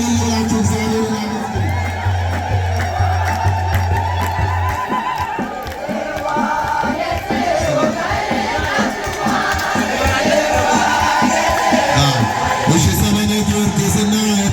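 Crowd at a Marian church festival breaks into loud, sustained ululation in praise, shrill trilling voices rising together with shouting and cheering over a continuous crowd roar.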